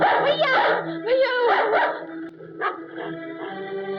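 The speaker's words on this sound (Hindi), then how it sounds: "इस कुत्ते को बाहर फेंक दो।" A dog barks and yips several times indoors in a tense household scene from an Indian film, its sharp barks tangled with agitated shouting voices.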